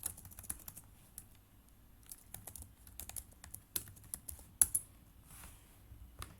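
Steady typing on a computer keyboard while coding a Python text game, irregular soft key clicks with a few sharper taps, quiet and close with no talk.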